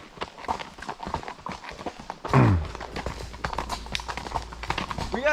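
Several horses walk along a trail ride, their hooves clip-clopping in an irregular, steady stream at close range, with a brief thump partway through and faint murmurs of people nearby.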